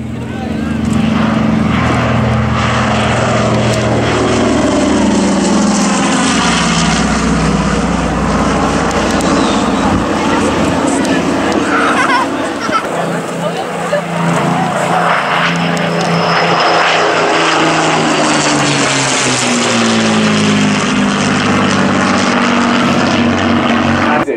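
A twin-engine light aircraft, a Grandmaster, flies past at an airfield airshow, its propeller engines droning loud and close, the pitch shifting as it approaches and recedes, with a commentator's voice talking over the noise.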